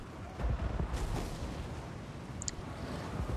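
A Dwarf organ gun and flame cannons fire in Total War: Warhammer 3 against Black Orcs, giving a rumbling series of booming volleys and blasts over a constant battle din, with a few sharper cracks standing out.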